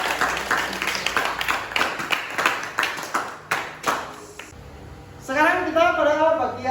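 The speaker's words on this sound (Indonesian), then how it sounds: "Tepuk tangan untuk kita semua." A class applauds, a burst of scattered clapping for a few seconds that fades out, followed by a voice speaking.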